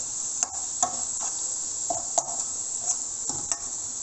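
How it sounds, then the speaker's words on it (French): A spoon stirs cinnamon into couscous with soft, irregular scraping clinks against the pot, several light strokes over a constant high-pitched hiss in the background. "Et on va remuer"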